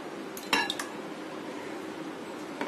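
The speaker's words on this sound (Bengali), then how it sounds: "আমি একটা বাটিতে দিয়ে দিচ্ছি 3টা ডিম" Three eggs cracked into a bowl: a brief cluster of sharp clicks and taps against the rim close by, followed by quiet room tone with a faint tap at the end.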